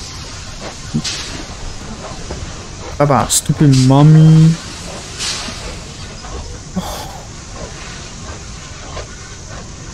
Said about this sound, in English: we met the choo-choo train, we had to met the train